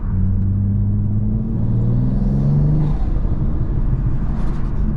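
BMW M240i engine revving hard on the move, a loud, close low rumble with rising harmonic sweeps as it accelerates, steady road and engine noise filling the whole stretch.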